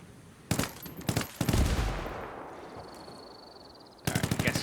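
Automatic gunfire in Ghost Recon Wildlands, loud rapid bursts that ring out into a fading echo and tail, then another fast burst at the end.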